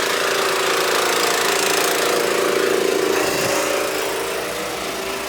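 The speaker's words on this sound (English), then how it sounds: "Start the motor up, then we'll let it charge again" A Mack R600 truck engine with a faulty compressor runs steadily at close range, a loud continuous mechanical drone with a rough, knocking edge that eases slightly toward the end.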